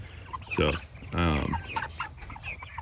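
Five-to-five-and-a-half-week-old chickens cluck close by in a few short bursts, one longer squawking call in the middle, with quieter clucks trailing after.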